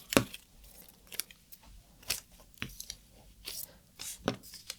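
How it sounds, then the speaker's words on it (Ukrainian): Scissors cut dress fabric along a marked line in short, crisp snips spaced about a second apart, close and fairly quiet, with soft speech faintly underneath. "ріжу по цій лінії і ось по цій"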